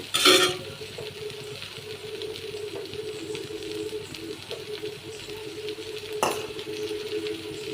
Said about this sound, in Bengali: খুব ভালো করে চিংড়ি মাছটা নেড়ে চেড়ে মিশিয়ে নেব একটু ভাজা ভাজা করে নেব